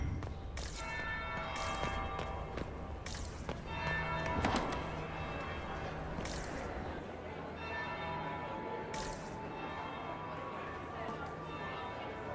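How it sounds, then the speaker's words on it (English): A bell rings in the Dragon Age: Inquisition video game, a few faint resonant strikes under ambient game noise and clopping hooves, with people talking over it. "That would be the second bell."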